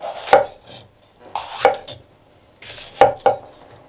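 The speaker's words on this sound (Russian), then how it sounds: "Нарежем перец. Перец я буду нарезать крупно довольно-таки." A knife chops peppers into large pieces on a cutting board in three short bursts of sharp thuds and crisp slicing strokes, close and clear.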